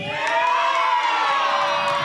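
Audience at a live show cheering and whooping to vote for a contestant, a loud sustained burst of crowd shouts with children's voices mixed in.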